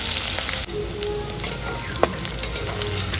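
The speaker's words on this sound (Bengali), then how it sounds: "ওদিকে তেল গরম হয়ে গেছে, এখন পেঁয়াজ কাঁচা লঙ্কা দিয়ে দিলাম। পেঁয়াজ কাঁচা লঙ্কাটা একটু ভেজে নেবো।" Onion and green chili sizzle in hot oil, a steady close frying crackle with a brief sharp clatter partway through, no voices.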